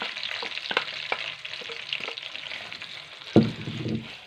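Chopped onions sizzling in hot ghee in a kadai for a dhaba-style karela sabzi, a steady close-up fry broken by sharp clinks and scrapes of a spoon, with a louder burst of sizzle near the end.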